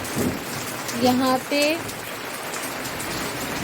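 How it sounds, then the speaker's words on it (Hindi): Heavy rain pours down steadily around a house, a dense constant wash of falling water with someone speaking briefly over it. "अभी तो बारिश थोड़ी सी धीमी हो गई, लेकिन इससे भी तेज़ बारिश हो रही है।"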